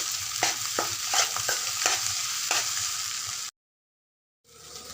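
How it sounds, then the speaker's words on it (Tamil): Torn dosa pieces for kothu dosa are tossed and stirred in a sizzling pan, with a run of sharp, rhythmic spatula scrapes over the frying hiss. A short silence follows, then the sizzle returns. "கிண்டி எடுக்கணும்."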